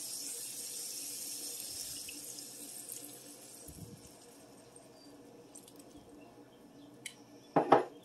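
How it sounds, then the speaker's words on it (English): Water from a tap runs into a pot for a boxed dinner kit, a soft steady trickle with light clinks of kitchenware and a brief louder splash near the end. "I'm going to put the water in first and then the cream soup"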